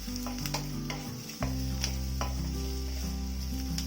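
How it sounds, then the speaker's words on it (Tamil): Radish sautéing with onions in a pan, a continuous close sizzle with a spatula scraping and tapping at irregular intervals and a low hum underneath, no voices. "வெங்காயத்தோட சேர்ந்து முள்ளங்கி நல்லா வதங்கட்டும்"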